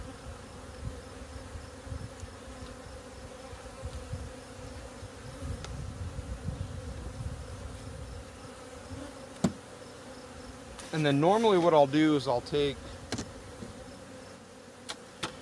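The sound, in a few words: honey bees buzzing around nuc hive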